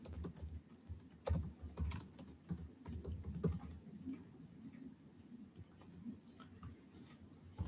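Typing on a computer keyboard, bursts of quick close clicks and taps with brief pauses between runs, fading to a faint steady background toward the end.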